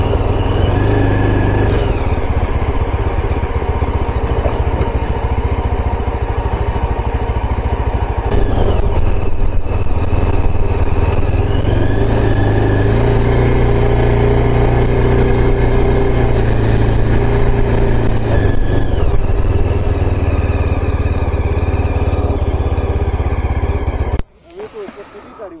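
Motorcycle engine droning steadily and loud on a ride to Dalma Wildlife Sanctuary in Jharkhand, with no letup for the whole stretch and then cutting away abruptly at the very end.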